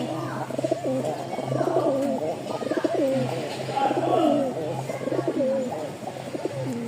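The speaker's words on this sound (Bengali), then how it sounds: "2 পিচ কবুতর আছে, মাশাআল্লাহ।" Several pigeons coo in soft, repeated rolling phrases at a wholesale pigeon seller's stall in Mirpur-1, close and steady over a low background hum, with calls overlapping throughout.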